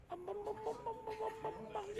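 A person imitates a French chicken, clucking in a rhythmic series of about eight short pitched bursts over two seconds, close and fairly loud.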